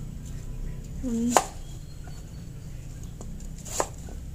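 A knife chops daikon radish for a clear soup on a board. Two or three sharp, separate thumps rise over a low background hum.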